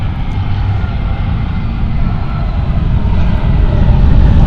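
An airliner lands at Frankfurt Airport in a crosswind, a loud, close, continuous engine rumble that swells toward the end without any speech.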